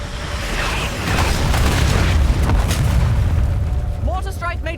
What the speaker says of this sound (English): Mortar strike made short work of that situation.